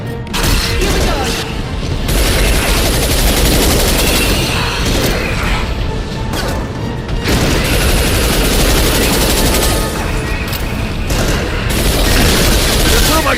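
Mass Effect 2 video game combat: dense, loud, sustained gunfire and booming blasts, including a concussive shot, rattling continuously with brief lulls and heavy impacts throughout.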